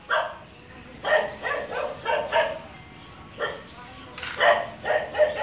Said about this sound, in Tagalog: tahol ng tahol yung aso ng kapitbahay namin